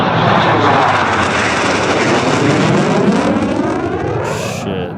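A Ukrainian MiG-29 fighter jet roars loudly overhead, a sustained, powerful broadband rumble that stays intense for the whole pass with only a slight fade at the end.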